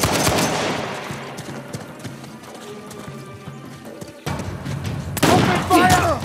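Gunfire rattles through a firefight in Uncharted: The Lost Legacy, with sharp shots and bursts that swell to a loud close barrage near the end, along with hoof-like clatter and shouted voices.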